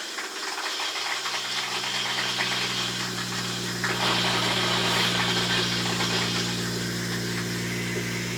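RV water pump purging air from the plumbing lines during a Thetford Aqua-Magic V toilet replacement, a steady droning hum with hissing and slight rattle that grows fuller and smoother partway through, running alone without talk.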